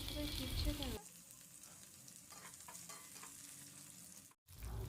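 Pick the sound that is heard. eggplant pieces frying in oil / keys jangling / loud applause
eggplant pieces frying in oil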